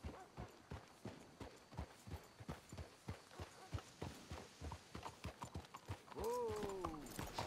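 Horse hooves clip-clop in a steady walking rhythm in Red Dead Redemption 2, several animals moving close by, ending with a loud whinny.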